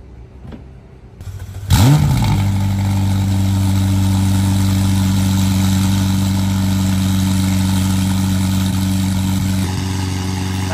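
A Porsche 992 GT3 barks to life with a sharp start-up flare, then settles into a loud, steady, high-pitched idle that holds unbroken, with a slight change near the end.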